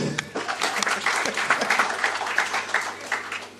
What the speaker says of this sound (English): So we should give them a clap as well